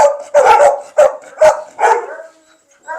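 Several bully-breed dogs bark in short, loud bursts close by, about five sharp barks spread over a few seconds with brief gaps between them, and there is no talking.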